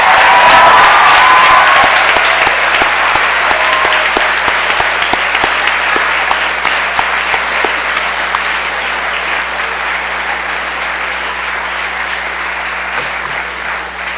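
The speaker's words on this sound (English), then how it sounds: "I hope you'll join me in a big round of applause to thank them for all their love and support." Sustained audience applause at a school commencement-style speech event, a dense steady wash of many hands clapping that carries on for about fourteen seconds and slowly thins toward the end.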